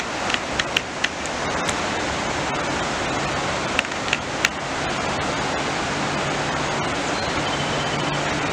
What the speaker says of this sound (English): there is I guess a man-made waterfall